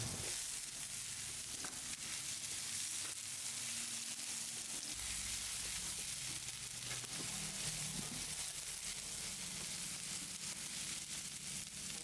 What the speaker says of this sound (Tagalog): dito naman sa isang pan, magigisa lang tayo dito ng ating bawang at ang ating sibuyas